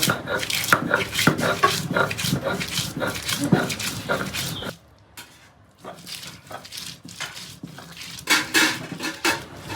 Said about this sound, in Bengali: এই শিলপাটাতে জিরা বাটা হয়ে গেছে পেঁয়াজ রসুন আর আদা বাটাও আছে তার পেঁয়াজ রসুনটা আমি বেটে নেব